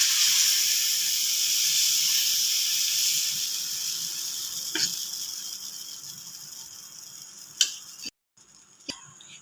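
Palm fruit batter fries in a little oil over a low gas flame with a steady, fairly loud hiss that slowly fades, broken by a few sharp clicks and a brief cut near the end.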